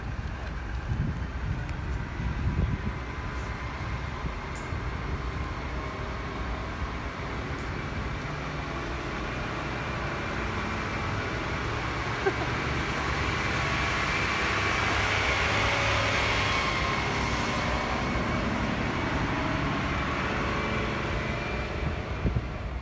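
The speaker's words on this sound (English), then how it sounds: "Trash truck's coming again." A garbage truck passes on a street near a creek, a steady broadband engine and road rumble that swells toward the middle and eases off, with some wind buffeting the microphone.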